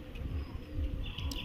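A pigeon of the Andhra madrasi breed coos close by in a series of low, soft, throaty pulses, with a faint higher chirp toward the end and no voices.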